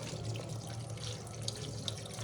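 Cold tap water runs over raw chicken pieces being prepared for pakora, a steady, gentle splashing stream heard fairly faintly and without any talking.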